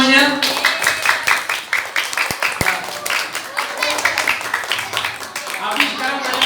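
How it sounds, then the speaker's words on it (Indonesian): Applause from the audience at a Ramadan camp gathering, a dense, steady wash of clapping that lasts the whole stretch, with voices talking over it. "boleh tepuk tangan buat semuanya"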